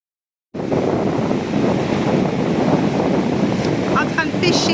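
Waves and strong wind roar steadily at Homlang beach on Koh Tral, Cambodia, a loud continuous wash of surf and wind noise on the microphone that starts abruptly after a moment of silence.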